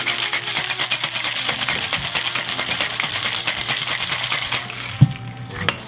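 A cocktail shaker with ice is shaken hard for a martini made with fresh-squeezed orange juice. It gives a fast, steady rattle of rapid clacks throughout, with a couple of louder knocks near the end.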